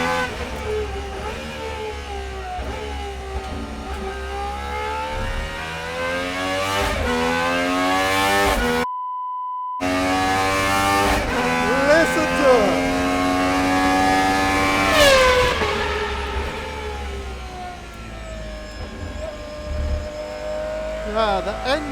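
A GMA T.50s V12 engine revs hard, rising and falling in pitch through repeated climbs with a brief cut-out midway, loud and close, while people talk over it.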